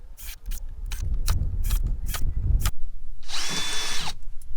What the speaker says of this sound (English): we're going to drill out all these little plastic rivets all the way around the fender